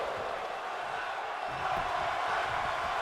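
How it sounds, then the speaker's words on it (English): Wrestling crowd at an independent show chanting in unison, a steady, broad roar of many voices filling the arena without pause. "Crowd chanting one more time."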